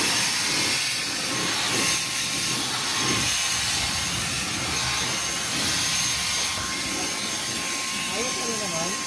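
A snow blower works through heavy, thick snow during a Calgary snowfall, a loud, steady roaring drone with a constant whine, while people talk nearby.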